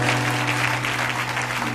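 A church congregation at a French-language sermon applauds to acclaim the Lord, producing a dense, loud, steady wash of clapping that fills the hall.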